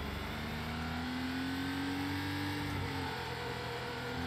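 A Porsche Carrera RS engine in the racing game Need for Speed Porsche holds a steady, droning rev, with the pitch climbing slowly and then settling, continuous and unbroken throughout.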